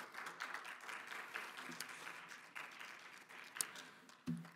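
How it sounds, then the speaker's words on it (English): A business forum audience gives another round of applause after a corporate announcement, steady many-handed clapping at moderate distance with a few louder nearby claps and a thump near the end. "Please, can we give them another round of applause?"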